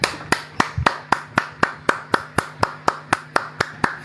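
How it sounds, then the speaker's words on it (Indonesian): An audience claps in unison, sharp, evenly spaced claps about four per second, loud and close, keeping a steady rhythm throughout. "Tepuk tangan dulu untuk Pak Lo."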